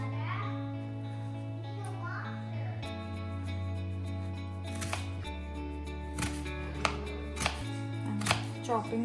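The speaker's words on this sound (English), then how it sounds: "Chopping this onions" Onions are chopped with a knife on a cutting board in a home kitchen, a steady run of crisp, close knife strikes over a constant low background hum.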